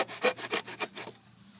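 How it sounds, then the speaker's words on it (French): Hand saw cutting thin, dry wooden boards in about five quick, rhythmic rasping strokes, close and fairly loud, then stopping. "Donc vous voyez que ça se scie quand même pas mal vite."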